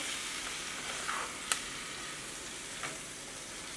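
Vegetables frying lightly in a pan before cabbage goes in, giving a soft, steady sizzle with a few faint clicks of a utensil, no talking.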